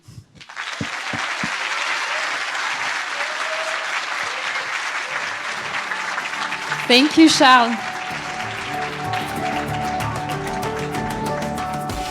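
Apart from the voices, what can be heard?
audience applause after a pitch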